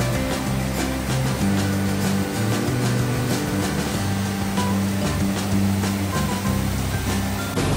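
Shuzheng Waterfall in Jiuzhaigou during winter, a steady broadband roar of heavy falling water that stays loud and constant throughout, with no voices.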